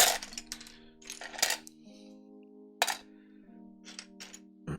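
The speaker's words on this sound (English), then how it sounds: "I'll get the rest of the keycaps installed" GMK keycaps are pressed onto a mechanical keyboard with a few sharp plastic clicks and taps, close and fairly quiet, over a faint background tone and some scattered rustling.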